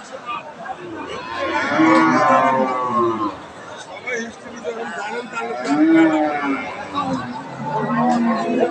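Several moos from a Red Friesian cow at a livestock market, close by and fairly loud, mixed with the chatter of people talking around it.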